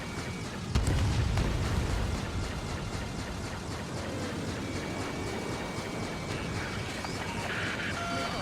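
Missile explosions in the Ace Combat 7 video game, a deep booming blast followed by a sustained roaring rumble of combat noise with faint higher tones, loud and dense throughout.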